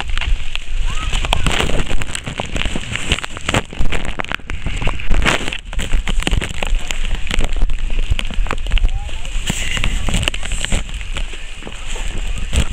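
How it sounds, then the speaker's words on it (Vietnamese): Heavy rain pours down at 2,550 m on Lang Biang mountain amid dense fog, a dense, constant close roar of drumming and crackling drops throughout. "Hiện tại thì trời mưa rất là lớn."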